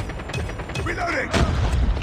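A weapon reload in Call of Duty Mobile, with mechanical clicks and a ratcheting magazine change amid game noise and a heavier thump partway through, fairly loud and close.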